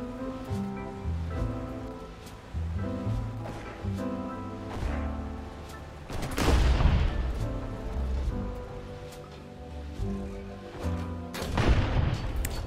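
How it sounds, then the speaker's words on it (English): In the War Thunder video game, smoke grenades launch one by one from a vehicle as a steady series of muffled thumps and bursts over a rumbling engine, building to heavier blasts midway. "We have 26 smoke grenades. We're launching them one by one."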